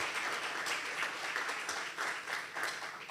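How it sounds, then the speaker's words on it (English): Conference audience at a plenary session on technology and critical minerals applauds the panelists, a steady, fairly faint wash of clapping from a mid-distance crowd lasting throughout with no talk. "I think we need to applaud our panelists."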